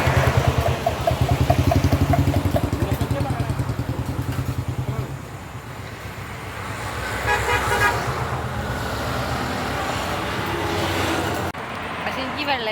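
Road traffic passes beside an open-sided roadside tea stall in Kerala. Car and motorcycle engines rise and fall, and a few short horn toots cut through a steady rumble while people talk nearby.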